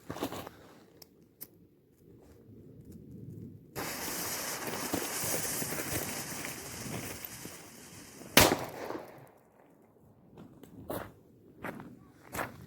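A large firecracker hisses on a burning fuse for several seconds, then goes off in one loud, close bang outdoors, followed by scattered faint pops and rustling.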